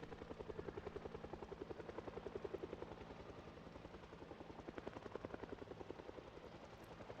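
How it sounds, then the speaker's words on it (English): Helicopter in the video game Project Zomboid passing overhead, a steady loud rotor chop with rapid even blade thumps and a low engine drone throughout, no voices. "Just hoping that the helicopter sound might drag a certain somebody out of their hiding place."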